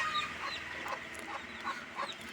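Native spotted Kappiri chickens cluck in short, repeated calls over a steady farmyard background, with no talk.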